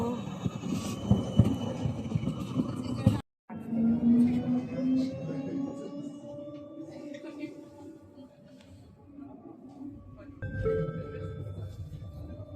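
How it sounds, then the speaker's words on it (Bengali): A tram in Germany rumbles in and slows at a stop, its low mechanical hum and faint squeal under nearby talk; after a brief dropout the motor whine rises steadily. "এই যে আমাদের ট্রাম চলে এসেছে, আমরা উঠবো"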